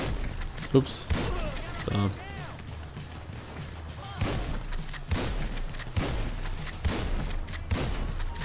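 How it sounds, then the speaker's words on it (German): Several heavy booming shotgun shots fire at irregular intervals, one after another, in GTA 5 in first-person view, while a person talks briefly over them. "jetzt schiesse ich mit einer verdammten Schrotflinte drauf und es explodiert einfach nicht so schnell"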